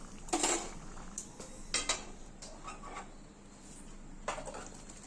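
A karahi cooking pan being washed, with faint metallic clinks and scrapes at irregular intervals over soft running-water background, close but quiet.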